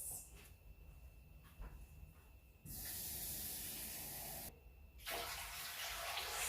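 Water pours into a large T-Fal 22-quart pressure canner in two loud, steady gushing bursts with a brief pause between, heard up close over quieter kitchen background.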